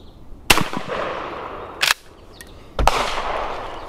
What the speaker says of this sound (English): Such a smooth shooting gun